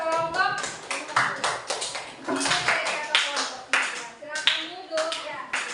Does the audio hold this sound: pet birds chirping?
no